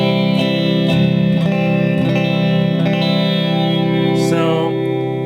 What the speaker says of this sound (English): it's actually a very good reverb.